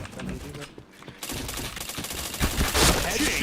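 Gunfire in a shooter video game, rapid bursts of shots that drop out briefly and then return louder and denser, with a voice talking over the action.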